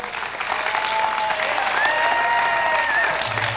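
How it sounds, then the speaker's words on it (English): Audience applause fills a concert shell in Memphis for a drummer playing with his band: a steady, dense wash of clapping and crowd noise that holds loud throughout, with a faint tonal whistle over it. "Let's give our drummer a great big round of applause"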